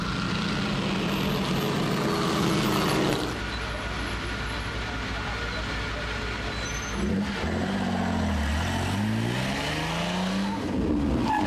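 Classic rally race cars run a special stage on a road at Mont-Valent: engines roar and rev, passing with rising and falling pitch as they accelerate. A narrator talks over much of the engine noise.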